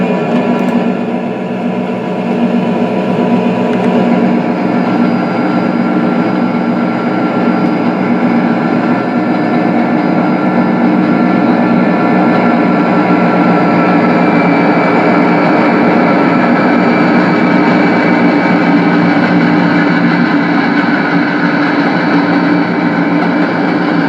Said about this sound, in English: Train's getting ready to cross the Norfolk Southern line at Browns.